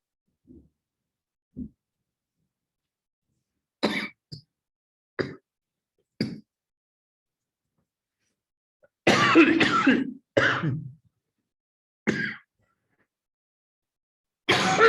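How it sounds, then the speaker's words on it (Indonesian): A person coughs and clears the throat in short, separate bursts, close and fairly loud, with silence between them and a longer double cough near the middle. "tiba-tiba batuk gara-gara open tadi tuh"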